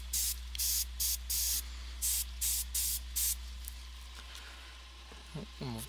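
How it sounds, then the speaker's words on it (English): A Badger airbrush spraying paint in eight short hissing bursts at a steady rhythm, close and loud, followed by quieter hiss and a brief voice at the end. "I'm gonna spray some of this on the lips too, so they are now a little bit darker."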